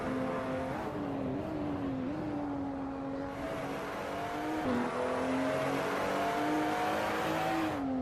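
A race car in a sim racing game pulls out of the pits at the Red Bull Ring, its engine droning steadily, with a brief dip and climb in pitch, loud and close throughout.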